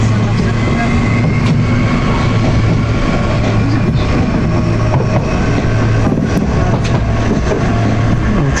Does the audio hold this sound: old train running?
yes